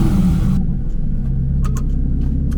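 Porsche idling with a SCART exhaust, valves closed in its quietest mode: a deep, steady low rumble close by, with a brief higher hiss at the start and a few faint clicks.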